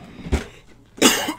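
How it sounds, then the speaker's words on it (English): Two separate coughs, a short one followed by a louder, harsher one, close up with a quiet pause between them. "I had to cough the entire time."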